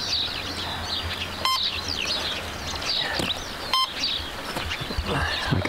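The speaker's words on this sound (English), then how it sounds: "It's making a beeping noise." At an RC plane flying field, two short electronic beeps sound clearly about two seconds apart against an outdoor background full of chirping birds.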